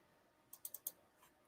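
Four faint, quick clicks of a computer mouse in close succession, soft and isolated in an otherwise quiet room.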